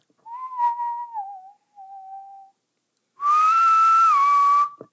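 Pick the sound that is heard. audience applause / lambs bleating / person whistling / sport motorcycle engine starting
person whistling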